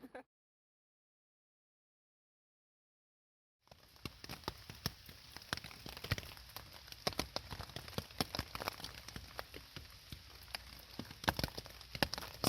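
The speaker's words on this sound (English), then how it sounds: "It's still raining." Rain falling on a camping tent. After a few seconds of silence, dense, irregular patter and crackling taps of drops on fabric continue steadily at close range.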